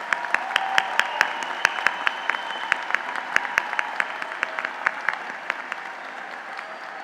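An audience at the SUNY Canton 2019 commencement applauds engineering technology graduates, a continuous wash of clapping in a large hall with sharp individual claps standing out, steady throughout and slowly thinning.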